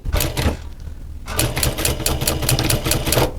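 An industrial sewing machine stitching a Land Rover seat cover, running in rapid rhythmic bursts with a brief pause before picking up again, loud and close.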